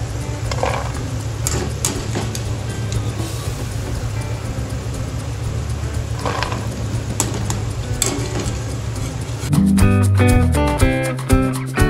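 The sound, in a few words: peanuts frying in a pan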